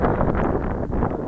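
Wind blowing outdoors at an RC model airfield, a steady loud rumbling buffet across the microphone with no pause, masking any other sound.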